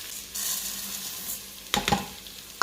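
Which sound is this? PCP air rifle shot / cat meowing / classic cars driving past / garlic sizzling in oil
garlic sizzling in oil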